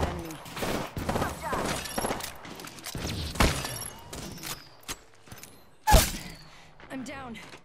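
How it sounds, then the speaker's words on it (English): Rapid gunfire bursts from the video game Apex Legends, repeated sharp shots and cracks with a loud impact near the end, mixed under ongoing game sounds and a player talking. "I'm taking fire, friends."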